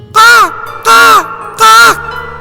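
Three loud, harsh caws in an even rhythm, close by, each call drawn out and nasal.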